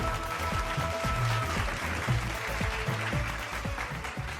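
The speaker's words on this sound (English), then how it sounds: "Let's give them a big round of applause." Crowd applause at an awards ceremony for a film competition, a dense steady wash of clapping from a large audience with music underneath throughout.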